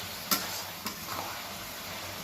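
Chicken curry is stirred in a pan with two sharp clacks of the utensil early on, followed by a faint, steady simmering hiss.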